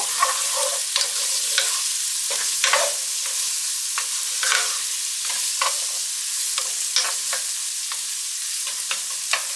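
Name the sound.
onions cooking in oil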